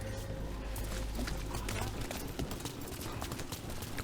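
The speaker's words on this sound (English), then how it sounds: "Horses." Horse hooves clip-clopping in Dragon Age: The Veilguard, a quick, steady run of soft clops over a dense game background with a low hum in the first half.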